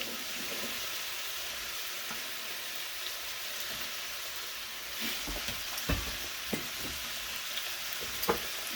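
Garlic butter shrimp sizzling steadily in a pan after garlic-infused oil is added, a constant bright fizz with occasional soft clinks and stirring knocks.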